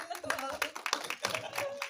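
A press-conference audience claps together in a quick, uneven burst of hand claps, close and moderately loud, with voices mixed in.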